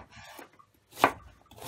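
A few sharp knife chops through an onion on a cutting board, spaced irregularly, close by with quiet gaps between.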